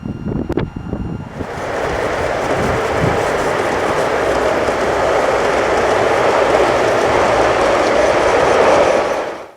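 A model train pulling five coaches rumbles and whirs continuously along a track, a steady rolling roar that fades out abruptly at the end.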